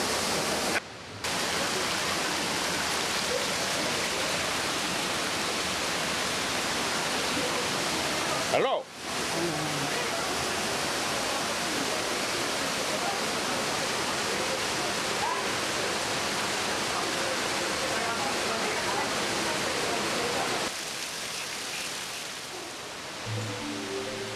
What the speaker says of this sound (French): Selalé, ça veut dire, comme il a dit, les cascades.